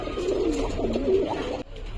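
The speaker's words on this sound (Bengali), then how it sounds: "তো দেখুন বন্ধুরা, এটা একটা মেল পায়রা।" Male pigeon in a loft giving a soft, rolling coo, close and steady for under two seconds before stopping abruptly.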